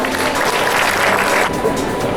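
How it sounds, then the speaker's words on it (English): A crowd at a school Teachers' Day and Onam celebration claps and cheers in a dense, continuous wash of applause, with some voices mixed in. "Let's give them all a thunderous round of applause."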